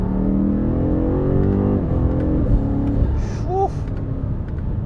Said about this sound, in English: The 8-speed ZF automatic transmission is actually very good. Some of those downshifts.